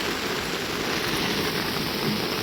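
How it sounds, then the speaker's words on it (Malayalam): Steady rain pours down during a rainy fishing trip by boat, an even, dense hiss filling the whole stretch with no voices. "മഴയത്ത്"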